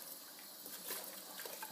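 Water runs from a kitchen tap in a steady, faint hiss and trickle that splashes continuously without pause.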